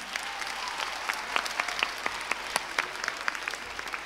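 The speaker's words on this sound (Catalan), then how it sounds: "un fort aplaudiment" A crowd at a school cantata show claps for the production team, a dense, even wash of applause with scattered crisp claps standing out, continuing without a break.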